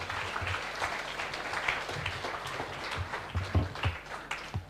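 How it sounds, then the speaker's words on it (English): A round of applause for student presenters at a live student presentation event rises in a modest, steady patter, moderately distant, with a low background hum and no clear talk over it. "Can we have a round of applause for them?"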